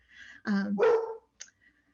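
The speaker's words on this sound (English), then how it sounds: "sorry, my dog barked" A pet dog barks indoors at home, close by, with one or two short, sharp barks followed by a faint whimpering sound.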